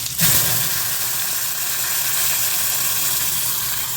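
Curry leaf chutney hits a hot pan while making wheat dosa, a sudden splash followed by a loud, steady hiss that fills the rest of the moment.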